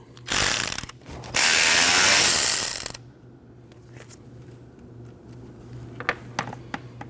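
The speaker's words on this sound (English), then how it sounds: "Then you want to remove your 8mm bolt." An 8mm bolt is removed with a ratchet from the camshaft position sensor of a 2013-2019 Ford Escape 1.5L four-cylinder: two loud, close bursts of rapid ratcheting, then quieter scattered clicks and handling noises, with no talking.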